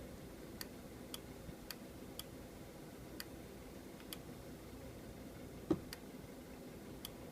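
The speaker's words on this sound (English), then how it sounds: "you'll be listening for a little clicking sound, and that's what actually activates the dishwasher to turn on" Small, dry clicks from a dishwasher door latch, spaced at a steady ticking rhythm, very faint and close against a quiet background hum, with one slightly louder click near the end.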